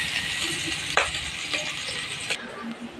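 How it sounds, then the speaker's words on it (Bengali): Fish frying in a pan in a home kitchen, a steady broadband sizzle running throughout with occasional clinks and stirring scrapes, close and moderately loud, no talk. "ওর জন্য একটা মাছ ভাজি করে নিচ্ছি"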